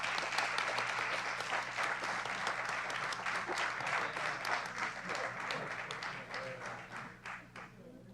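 A board meeting audience applauds staff members from Norton being recognised, with sustained moderately quiet clapping that fades toward the end.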